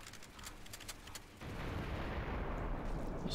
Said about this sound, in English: Oh, this is an artillery gun.